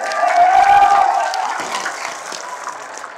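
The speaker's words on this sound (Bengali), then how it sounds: "একটা হাত তালি দেন" Audience applause at a Bangladeshi political talk, a broad burst of clapping that swells and then slowly fades, with a voice rising above it near the start.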